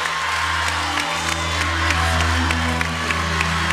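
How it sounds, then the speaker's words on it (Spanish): A television studio audience at the final of La Voz Argentina cheers, whoops and applauds the winner, the crowd noise rising and falling over a steady low musical hum. "Este aplauso de toda la gente para Gustavo Corbalán, el rosarino"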